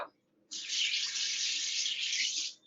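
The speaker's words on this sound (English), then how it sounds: "we're just going to start with 1 tablespoon of water and start giving that a good mix" Water runs steadily from a tap or pour into a glaze mixture for about two seconds, a smooth continuous hiss after a brief quiet start, fairly close and with no talking.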